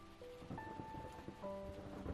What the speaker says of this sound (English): imagining the rain washing over you